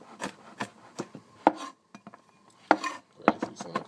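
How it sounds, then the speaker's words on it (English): A knife chops garlic on a cutting board in a series of irregular, crisp wooden taps and knocks, close and clear against near silence. "be very careful when cutting this garlic"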